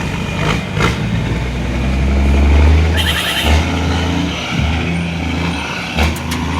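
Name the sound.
trucks driving up a highway, engine brakes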